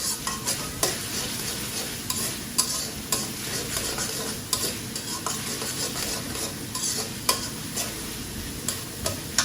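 Fish stirred with spices in a hot pan: continuous sizzling frying with repeated sharp scrapes and taps of a spatula at an irregular rhythm, close and alone.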